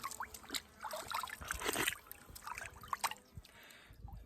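Clear, cold spring water trickling and gurgling at a natural spring, a faint, close, irregular patter of small splashes and drips throughout.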